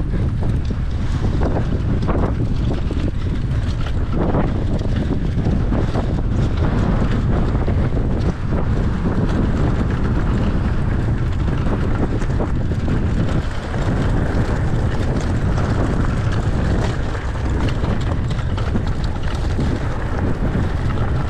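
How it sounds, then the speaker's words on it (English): Heavy wind buffets the microphone in a constant low roar, loud and close, with no break throughout, on a mountain bike trail at Lake Garda. "it's a bit windy here"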